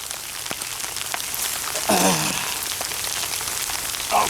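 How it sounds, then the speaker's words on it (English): Steady rain falls as a continuous close hiss on an overnight outdoor trip, with a few brief louder patches and no talking. "now it's raining."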